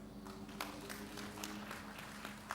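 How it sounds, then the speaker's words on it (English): Audience applause at a devolution conference, a brief round of scattered clapping in a hall with sharp individual claps standing out over a low room hum. "Another round of applause for Mr. Bredal."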